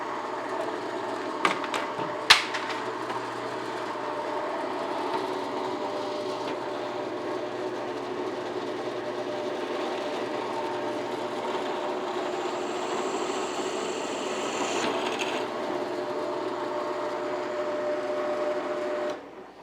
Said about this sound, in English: I drilled through really easy.